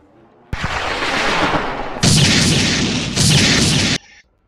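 Kiryu's Mobilization Barrage attack in the Roblox game Kaiju Universe erupts as a dense roar of rapid gunfire-like blasts, loud and close, swelling in two or three surging waves over about three and a half seconds before cutting off abruptly.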